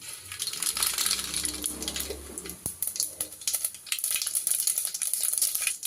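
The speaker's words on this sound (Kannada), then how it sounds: "ಈಗ ಸ್ಟವ್ ಮೇಲೆ ಪಾತ್ರೆ ಇಟ್ಟಿದ್ದೀನಿ ಇಟ್ಬಿಟ್ಟು ಎಣ್ಣೆ ಹಾಕ್ಕೊಂಡಿದ್ದೀನಿ ಸ್ವಲ್ಪ ಎಣ್ಣೆ ಈಗ ಸಾಸಿವೆನ ಹಾಕ್ಕೊಳ್ತಾ ಇದ್ದೀನಿ" Mustard seeds in a little hot oil in a pot on the stove crackle and pop in a dense, close sizzle, punctuated by sharp metallic clinks.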